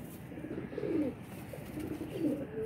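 Pigeons cooing in a loft of Kasuri pigeons, soft repeated low coos in two close bursts over a faint steady background.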